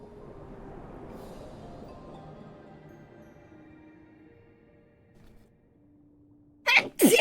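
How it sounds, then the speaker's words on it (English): A game character in Mythic Ocean lets out a short, sharp sneeze near the end, loud and close, after several seconds of faint ambient music. "Why am I sneezing so much in this area?"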